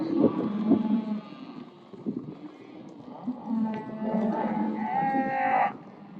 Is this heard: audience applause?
no